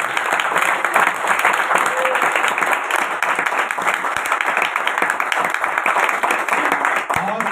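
A church congregation applauds loudly and steadily for several seconds, a thick wash of clapping with voices mixed in.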